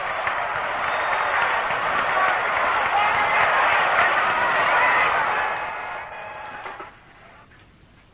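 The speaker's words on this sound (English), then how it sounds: "the crowd once again is up on its feet cheering" Baseball stadium crowd cheering at the 1958 World Series between the New York Yankees and Milwaukee Braves, a dense roar of applause and voices through an old radio broadcast, sustained then fading away near the end.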